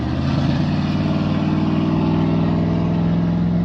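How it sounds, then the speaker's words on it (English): Steady street traffic near a riverfront in Laramie, Wyoming, dominated by a loud, close car engine droning and revving continuously with no talk. "you hear the traffic, you hear the louder engine revving"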